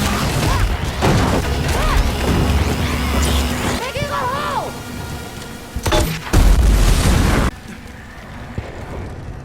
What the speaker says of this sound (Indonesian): Drasa melontarkan granat untuk membuat jalur pelarian